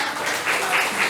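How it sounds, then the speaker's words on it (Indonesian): High school class of students applauding in a classroom, a short burst of steady, close clapping with some voices mixed in. "Tepuk tangan dulu dong ya."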